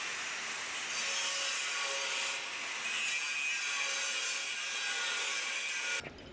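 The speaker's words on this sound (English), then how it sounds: "Polished by a grinder and using a large machining center." A grinder polishes a machined submarine part in a factory, giving a steady, loud abrasive rasp that holds for about six seconds before cutting off abruptly.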